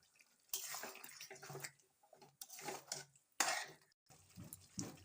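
Water splashes and trickles from a bowl that held cashew paste into a cooking pan, in several separate bursts of pouring with short quiet gaps and light clinks of the bowl.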